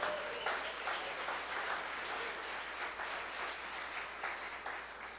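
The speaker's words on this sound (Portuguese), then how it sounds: "Quem pode dar um aplauso a Jesus por isso?" A church congregation applauds during a sermon, a faint but continuous bed of many hands clapping that stays even and fairly distant throughout.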